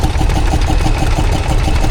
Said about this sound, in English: It's an oil engine anyway,